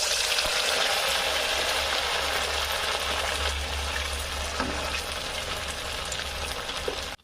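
Sago tikki chops frying in hot oil in a wok give off a loud, steady broadband sizzle that runs unbroken through the whole stretch, with no talking.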